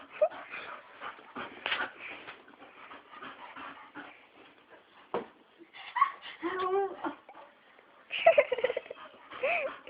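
A dog whimpers, yips and whines in short, irregular bursts while playing with a woman, the squeals rising in pitch at moments, with human voices mixed in.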